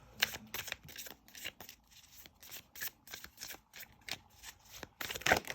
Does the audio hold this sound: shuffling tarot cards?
yes